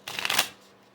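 Tarot deck being shuffled, one quick riffle of cards lasting about half a second, close and crisp, then a quiet room.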